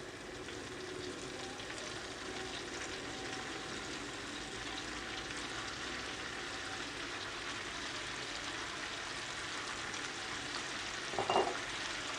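Steady, even sizzling of spinach added over onions in a pot, a constant frying hiss with light crackle throughout, ending with a brief clatter near the end.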